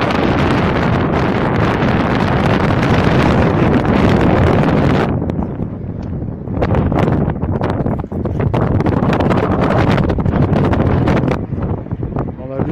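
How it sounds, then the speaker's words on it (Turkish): Heavy wind buffets the microphone with loud, continuous rumbling gusts, easing briefly then returning, while someone talks underneath. "Rüzgar var, kusura bakmayın arkadaşlar."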